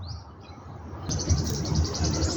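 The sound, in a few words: bird calling near its nest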